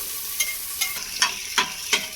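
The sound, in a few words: onion lightly frying and being stirred in a pan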